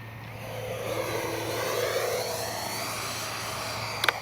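An FMS 70mm Avanti S V3 RC jet makes a low pass, its ducted fan whining in a steady rising-and-falling hiss at moderate distance, with a brief click near the end.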